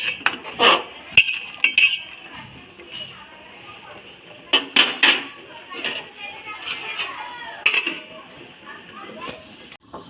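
A cooking pot lid comes off a pot of boiled whole vegetables, giving close metallic clinks and clatters in scattered bursts while a person talks.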